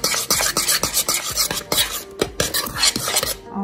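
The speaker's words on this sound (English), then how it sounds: "Stirring it vigorously." Vanilla pastry cream stirred vigorously in a pan on the stove, a spoon or whisk scraping and clinking against the metal in a quick, steady rhythm, close and fairly loud.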